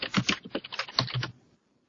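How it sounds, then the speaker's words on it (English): Quick bursts of keystrokes clatter on a computer keyboard, close and clear, then stop, leaving a short quiet tail. "So you're going to go ahead and type your name in there."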